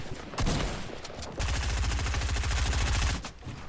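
Gunfire in the video game Fortnite: a burst of shots, then a long rapid automatic volley of evenly spaced loud cracks, close and dominant, followed by a brief pause and a few more shots.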